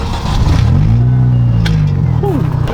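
A Mini car engine revs up close and holds a steady note as the car moves off, then eases with a brief high chirp at the end.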